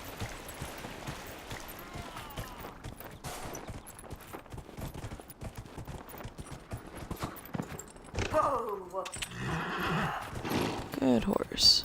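Horses whinny repeatedly in a video game, Dragon Age: Inquisition, over a busy mix of hooves clopping and bursts of rapid gunfire, with a voice talking intermittently underneath.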